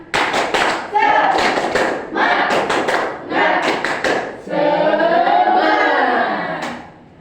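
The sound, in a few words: classroom clapping hands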